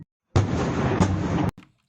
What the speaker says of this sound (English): You can see a lot of the birds getting spooked over here with these massive explosions